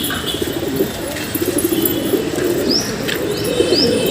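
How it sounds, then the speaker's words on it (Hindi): Flock of domestic pigeons flying and calling nearby, with soft cooing and brief chirps over a low outdoor background, plus a few rising whistle-like calls toward the end. "ये देखिए किस तरीके से कबूतर उड़ रहे मेरे"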